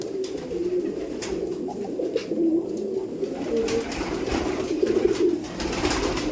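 Imported Giribaj pigeons coo softly nearby in a loft, their low rolling calls repeating over a faint background murmur.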